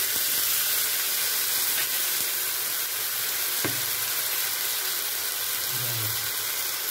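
A bowl of chopped tomatoes fries in an oily pan, producing a continuous loud sizzle and hiss with a few faint stirring knocks, close by and steady with no talking.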